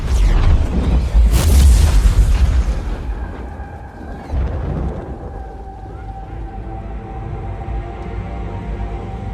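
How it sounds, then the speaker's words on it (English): Destructive tornado storm in the video game Battlefield 2042, opening with loud booming crashes and roaring debris-laden wind, then settling into a sustained howling rumble with a lingering tonal drone. "The tornado is this massive disruptor that just comes into the play space, and wherever it goes, destruction follows"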